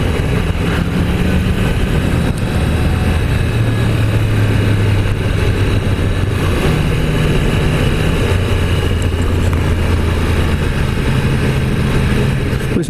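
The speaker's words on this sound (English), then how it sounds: "It's not every day you get to ride the apex of sports bikes, which probably the Yamaha R1" A 2016 Yamaha YZF R1 sports bike runs at a steady engine drone while being ridden, loud and close throughout, mixed with rushing wind noise.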